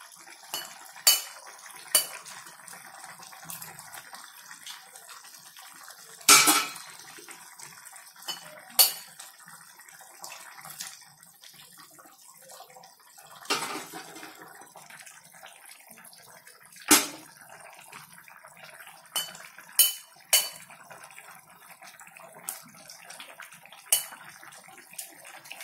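Eggs cracked and poured into a simmering egg kurma of onion and tomato, heard as sharp clinks of shell and utensil against a pot, spaced irregular knocks, and faint wet pouring in between, with no talking.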